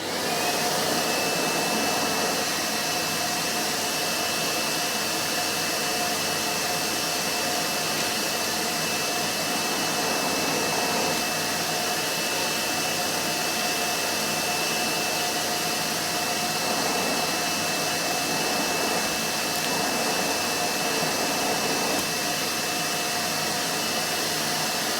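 A shop vacuum runs continuously, pulling suction through a down-draft setup for a radial arm saw, giving a loud, unbroken roar from start to finish.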